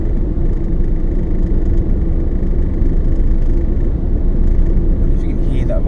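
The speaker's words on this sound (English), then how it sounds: "I wonder if you can hear that vibration on the GoPro" Continuous low rumble and vibration of a car on the road, captured from inside the vehicle on a GoPro camera, loud and steady throughout with no clear talk.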